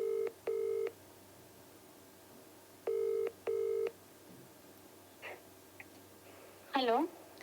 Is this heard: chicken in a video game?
no